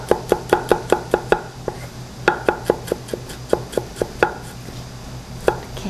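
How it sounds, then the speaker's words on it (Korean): Garlic and ginger finely minced with a knife on a cutting board, heard as quick rhythmic chopping taps in bursts, close and crisp, with no talking. "이렇게 마늘과 생강을 곱게 다집니다."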